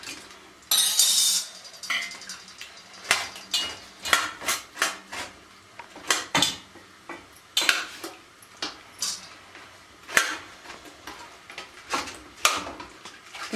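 Cleaned ojri (tripe) is scraped in a metal pan to strip its outer lining, giving repeated sharp scraping and clinking strokes at an uneven rhythm, close and fairly loud, with no talking.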